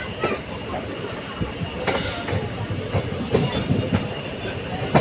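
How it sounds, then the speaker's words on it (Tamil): A train rolls along the tracks nearby on the Palani to Dindigul line in Tamil Nadu, loud and continuous, with rhythmic clacking of wheels over rail joints and occasional metallic squeals. "செம்மையாக போகுதுங்க ட்ரெயின்"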